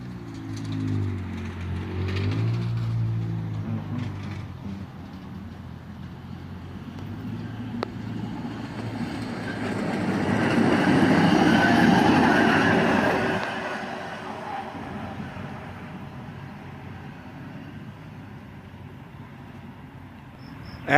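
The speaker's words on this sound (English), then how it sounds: "Hirailer trucks like this are not an uncommon sight on this line" A hi-rail truck rolls along a railway line, a low rumble that swells as it passes nearby, peaks, then fades away, with no voices.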